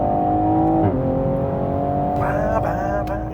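A 2020 Toyota Supra A90 engine pulling under acceleration, a steady droning tone that drops at a gear shift and then climbs again, heard from inside the car with a faint voice underneath.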